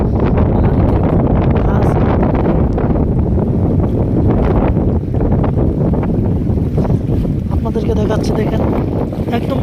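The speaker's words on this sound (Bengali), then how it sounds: "দেখুন বহুত বাতাস চলতেছে এখন বাতাস দেখেন" Loud, constant wind roaring and buffeting the microphone on the bank of the Brahmaputra River, with a voice talking underneath the gusts.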